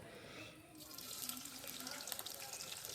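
Tap water runs into a sink as sliced bitter gourd is rinsed under it, a steady, close splashing rush that covers the whole clip with no talk.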